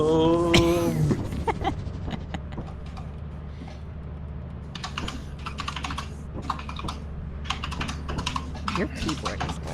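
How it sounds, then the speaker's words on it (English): Fast clattering keystrokes come from a loud computer keyboard during a modded Lethal Company game session, rapid and continuous close to the microphone, with voices talking over it. "Your keyboard is loud."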